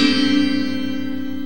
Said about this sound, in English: I recorded that chord on my home recorder with a 12-string effect